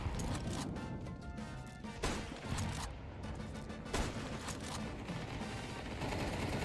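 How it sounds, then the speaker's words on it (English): Rapid gunfire in Counter-Strike 2, with repeated sharp shots fired through a wall over a dense, continuous bed of game noise and distant crashes. "Two clean shots through the wall."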